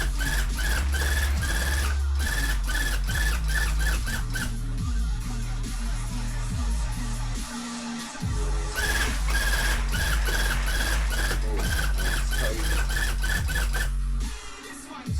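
A tufting gun drives yarn into stretched fabric while building up a Beetlejuice sandworm piece, giving loud, rapid mechanical punching bursts in stop-start runs with brief pauses, steady and close throughout.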